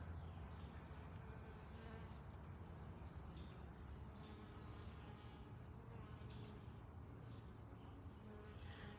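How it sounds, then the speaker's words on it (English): Honeybees buzzing around a hive while it is being worked on, a faint steady droning hum with a few individual bees passing close by. "I got bees checking me out for sure on this one."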